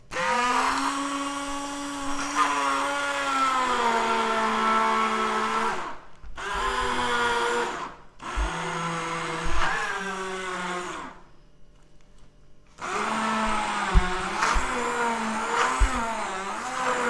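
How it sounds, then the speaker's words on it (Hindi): Hand blender whirring through a keto green smoothie of leafy greens, a loud motor whine in long bursts with pitch bending under load, cut by short pauses and a near-silent gap before blending resumes. "मैं हैंड ब्लेंडर यूज़ कर रहा हूँ"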